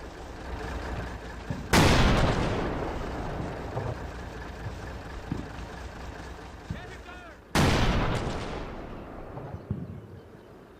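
Rapid gunfire in the video game Combat Mission: Battle for Normandy: two loud, sharp blasts separated by several seconds, each fading into a long rumble, with faint pops in between.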